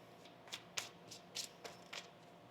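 Tarot cards are shuffled close by, each riffle a quick, soft flutter and snap, a handful of them at an uneven pace, faint and with no talking.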